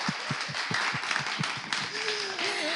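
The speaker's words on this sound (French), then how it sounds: "Il faut l'applaudir." Studio audience on a French morning show applauding, dense rhythmic clapping that fills the whole moment at moderate loudness, with a faint voice or tone gliding through near the end.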